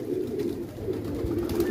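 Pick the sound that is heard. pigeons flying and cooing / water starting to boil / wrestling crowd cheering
pigeons flying and cooing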